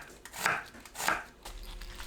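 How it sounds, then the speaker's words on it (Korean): An onion is cut into thin strips with a kitchen knife, giving two soft, dull strokes about half a second apart, quiet and close, with no voices. "양파를 채 썰어주세요."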